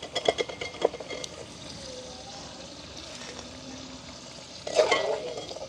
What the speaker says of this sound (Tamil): இப்படியே எல்லா கருணக்கிழங்கையும் பொரிச்செடுப்போம்.